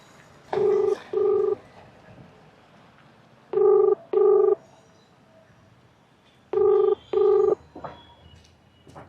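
Three pairs of steady electronic tones sound at even intervals, like a phone ringing back, with quiet background hum and no talk.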